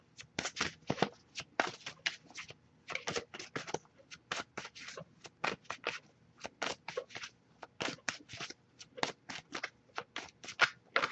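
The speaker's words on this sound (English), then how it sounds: "I'll give it a few more shuffles" Rapid riffling of a deck of tarot cards, repeated in quick bursts with brief pauses, close and crisp, with no voices.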